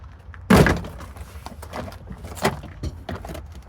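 A sharp plastic thunk and crack as the door panel of a 2004-2006 Scion xA is pried loose, followed by softer rattling and clicks.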